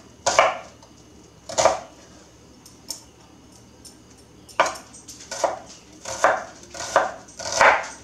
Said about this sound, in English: And I'm going to chop it up too. I'll put one whole onion in there.